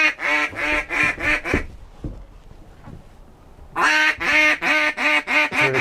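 Ducks quack in loud, rapid bursts during a duck hunt, close by, with a short quiet gap before another run of repeated quacks.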